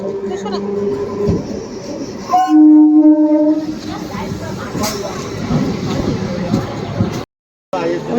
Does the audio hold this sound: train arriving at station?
yes